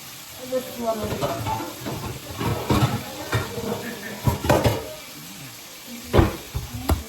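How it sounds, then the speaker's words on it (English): Hot sauce being mixed in a pot, with repeated close clinks and scrapes of a utensil against the pot over a soft hiss, with irregular bursts and a louder knock near the end. "So, but this one is a hot sauce, so I'm just gonna mix this."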